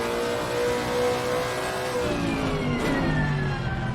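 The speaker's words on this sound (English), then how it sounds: "I am torturing the engine because I do just want to hear the sound of that naturally aspirated V8." A naturally aspirated V8 race car engine in Assetto Corsa Competizione revs hard and steadily, with a continuous loud drone whose pitch sweeps up and down. It is heard alone with no talking.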